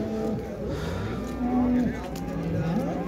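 Cattle low repeatedly at a busy livestock market in Şarkışla, Turkey, with long mooing calls rising and falling close by while people talk in the background.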